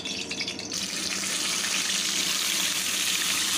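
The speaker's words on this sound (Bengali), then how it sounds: "কড়াইটা সুন্দরভাবে এসে গেলে মাছটা এবার দিয়ে দেবো।" Hilsa fish pieces fry in oil in a kadai while preparing mustard hilsa, a steady, loud, hissing sizzle that swells after a brief quieter start and continues unbroken, with no talking.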